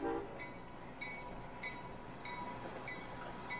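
Freight train on the Arcade & Attica railroad, a faint, distant rumble of rolling cars with repeated short high metallic squeals or horn-like tones over steady low noise.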